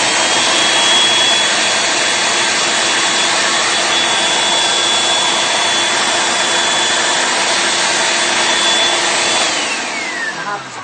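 A food processor running loud and close as it processes chickpeas into a chunky mixture, a steady high motor whine with grinding texture that holds for about ten seconds before winding down.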